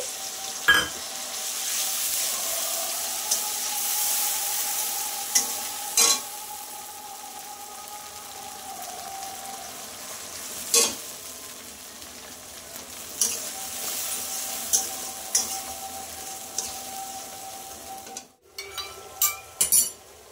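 Mustard, green chili and poppy seed paste frying in a pan for a bhola fish curry, a continuous hiss of sizzling broken by repeated clinks and scrapes of a spoon stirring, near and fairly loud.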